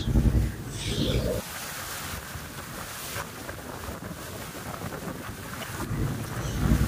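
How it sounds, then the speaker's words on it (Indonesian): A river water taxi boat rocked by waves and wind near an estuary meeting the sea, with gusty wind buffeting the microphone, splashing water and low rumbling, louder bursts at the start and end. "Nampak jelas gemuruh ombak serta angin yang menggoyangkan taksi sungai"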